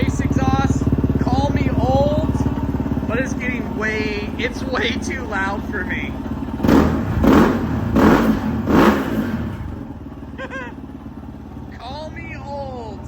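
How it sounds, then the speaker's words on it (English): A Kove Rally 450 adventure motorcycle with a race exhaust rumbles nearby, then revs up in several loud, sharp bursts before settling back to a lower idle. "that race exhaust, call me old, but it's way too loud for me"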